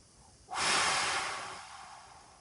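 A single deep, breathy exhale from a person during a mindfulness exercise, close and airy, swelling quickly and then fading slowly.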